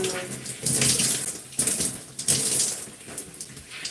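Water runs from a tap while hair is being washed and detangled, a steady close splashing stream that surges and breaks up unevenly as hands move through the flow.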